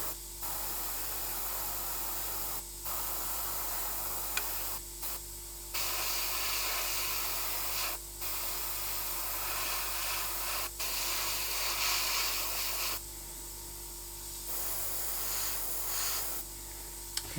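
A Gaahleri Mobius airbrush with a fine needle and nozzle sprays paint at low pressure, giving a steady close hiss with brief gaps where the trigger is released, over a constant low compressor hum.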